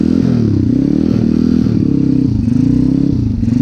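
A Chinese pit bike motorcycle rides at full throttle across a frozen river, its engine droning loud and steady close by, with rising and falling pitch and some clatter.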